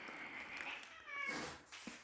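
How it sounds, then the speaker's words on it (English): Close by, a cat gives two or three drawn-out meows in quick succession during a quiet unboxing, with no talking. "Cats."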